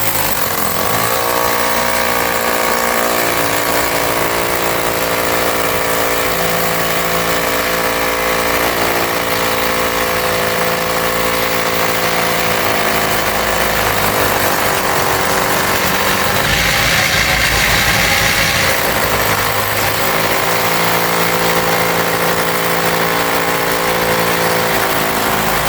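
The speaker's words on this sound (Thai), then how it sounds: "กำลังเล่นเครื่องเจาะอยู่" A power drill runs loudly and continuously at close range, a harsh, grinding mechanical drone that barely changes for the whole stretch.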